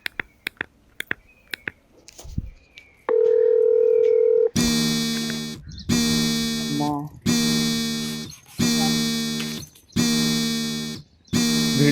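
A mobile phone call is placed: a few sharp keypad clicks, then a steady tone, then a loud ringback that repeats in evenly spaced pulses with short silent gaps.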